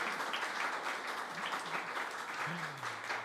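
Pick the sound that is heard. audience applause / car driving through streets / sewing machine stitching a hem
audience applause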